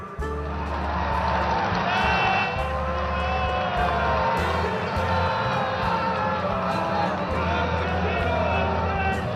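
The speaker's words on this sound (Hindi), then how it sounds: "तालियों का जय घोष रुकना नहीं चाहिए।" A large crowd clapping and cheering at a Prime Minister's event in Jind, Haryana, a dense, sustained roar of applause and shouts that stays loud throughout, with a voice over it.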